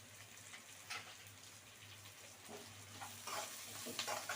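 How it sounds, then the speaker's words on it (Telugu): Paneer pulao cooks in oil with green onion, coriander and mint, giving a continuous soft sizzle with light scraping from stirring, close up and steady with no talking. "ఇలా సౌండ్లో వేపుకుంటే టేస్ట్గా ఉంటుంది."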